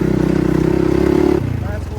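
A motorcycle engine drones close by with a steady, buzzing pulse that drops to a lower pitch partway through, while a person talks over it.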